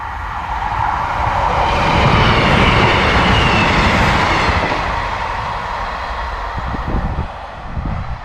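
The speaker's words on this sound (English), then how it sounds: "So we'll watch this train come past" A train rumbles past at close range near Broomfleet in the East Riding of Yorkshire, a loud, steady roar with a faint rhythmic clatter of wagons that eases slightly toward the end.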